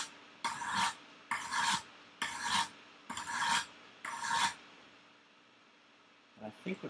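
A knife blade being sharpened, five distinct close rasping strokes in a steady rhythm, then a pause and a faint scrape at the end.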